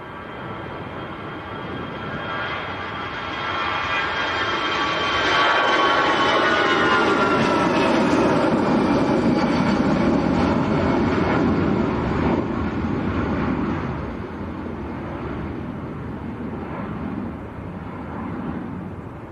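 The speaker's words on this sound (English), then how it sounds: "we've got an aircraft on finals as well" An airliner on final approach to Leeds Bradford Airport on a windy day, a broad engine roar with whining tones that swells over several seconds to a peak midway, then slowly fades as it passes, with steady wind noise throughout.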